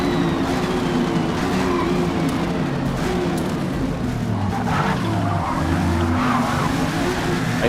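A 2021 Audi RS-7 Sportback in a racing video game slides under the handbrake, its tires squealing in a long, steady screech over the loud, continuous engine drone.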